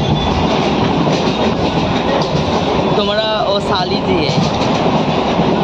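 A Kolkata metro train running, a loud continuous rumble and clatter of wheels with a brief squeal partway through, and a few words spoken over the din.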